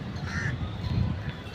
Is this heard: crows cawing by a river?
yes